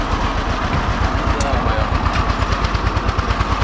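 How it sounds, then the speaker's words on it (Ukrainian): An engine runs with a loud, steady chugging pulse as the vehicle pulls away on a village road, its rhythmic throb continuous throughout and heard close up. "Газ до бляхи і трахкотіння мотору"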